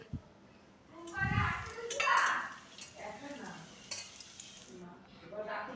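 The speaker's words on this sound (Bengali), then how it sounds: "তো দেখো আমাদের এক পিঠ ভাজা হয়ে গেছে আমরা কিন্তু বড়াগুলিকে উল্টে দিয়েছি" Drumstick flower fritters fry in hot oil with a soft crackling sizzle and occasional clinks of a spatula turning them, under a voice talking.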